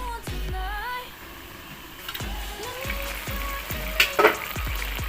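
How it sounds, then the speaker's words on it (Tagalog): Tilapia frying in a pan as it is stirred, giving a continuous sizzle with several sharp clunks of the utensil against the pan and a brief louder crackling burst near the end, no speech. "Haluin lang natin."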